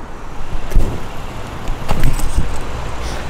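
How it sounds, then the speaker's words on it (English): A Mazda Speed 3 car with its engine started and idling nearby, a low steady rumble with a couple of brief louder thumps, no talking. "Right now we'll turn on the car and stuff just to see"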